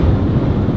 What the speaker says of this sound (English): That's how windy it is.